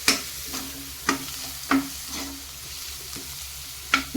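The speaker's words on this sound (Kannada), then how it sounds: "ಇದೆಲ್ಲ ಹಾಕಿ ಈಗ ನಾನು ಚೆನ್ನಾಗಿ ಮಿಕ್ಸ್ ಮಾಡ್ತೇನೆ." Garam masala and turmeric are stirred in a hot pan, with a soft steady sizzle under repeated scraping strokes of the spoon that land at an irregular rhythm, close and fairly quiet.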